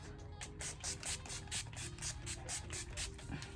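Setting spray misted onto a face during a makeup application, a quick run of soft, close hissy spritzes in a steady rhythm, faint and without talk, ending in a sharp close bump.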